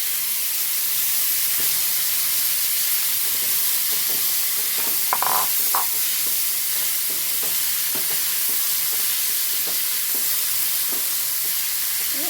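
Kidney beans are added to urad dal cooking in a pot, giving a steady sizzling, steamy hiss with scattered small clinks and stirring sounds, close and continuous without speech.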